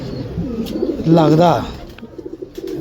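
Pigeons cooing in a loft setup holding around forty birds, with one soft, warbling coo rising and falling in the middle while someone talks nearby.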